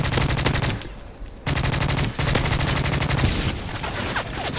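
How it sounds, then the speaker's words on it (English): Rapid gunfire bursts loud and close in a Modern Warfare 3 match, stopping briefly before resuming in dense volleys. "Somebody just trying to shoot me with a shotgun?"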